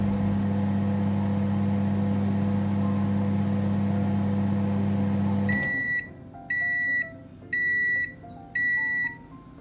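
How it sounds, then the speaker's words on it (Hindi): A 1000-watt microwave oven hums steadily for one minute baking a chocolate cake, then stops and gives four loud, high beeps in an even rhythm, close by. "तो माइक्रोवेव में हम इसको रखेंगे 1 मिनट के लिए"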